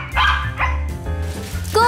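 A new pet dog barks a few times in quick sharp yips and woofs, close and loud, with a brief whimpering tone at the end.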